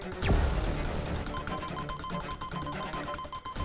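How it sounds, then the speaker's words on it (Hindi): A telephone rings loudly and continuously, its bright electronic tone trilling on and on and filling the whole stretch. "बदौल का फोन।"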